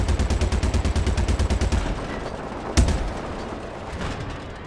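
Rapid automatic gunfire in the space game Star Citizen, a steady burst of evenly spaced shots for about two seconds, then a single sharp blast followed by lingering rumble and fainter shots.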